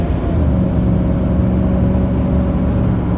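Car accelerating on a road, a steady low engine hum with a constant rumble and mild road noise, close and unbroken throughout.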